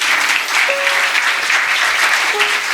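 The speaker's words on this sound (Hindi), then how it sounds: "और पूरी क्वायर के लिए ज़ोरदार तालियां।" A church congregation at an Easter service applauds the choir with steady, dense clapping that fills the room, loud and sustained throughout, with a few brief whistles or cheers cutting through.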